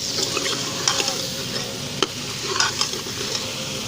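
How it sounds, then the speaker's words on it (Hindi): Desi tinda gourds go into hot, ready masala in a pan, bringing a steady close sizzle with stirring scrapes and a few sharper clinks over the continuous frying hiss. "मसाला रेडी है, इसमें हम टिंडे डालेंगे।"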